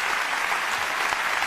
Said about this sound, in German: Ihr Applaus ist schon in Ordnung